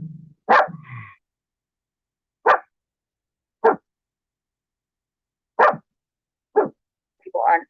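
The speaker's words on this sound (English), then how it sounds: "her stupid dog is making my dog bark" A dog barks in short, sharp, separate bursts spaced a second or more apart, close and loud against silence, with a brief voice near the start.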